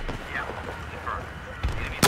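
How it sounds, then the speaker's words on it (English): Battlefield 4 gunfire during a Capture the Flag match, with a couple of sharp, loud shots or blasts near the end over a busy, noisy game soundscape with distant calls and rumble. "There's someone shooting."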